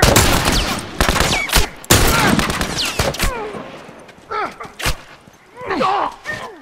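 Gunfire in The Last of Us Remastered, loud rapid shots and bursts crackling close, mixed with shouting voices and grunts during a chaotic firefight.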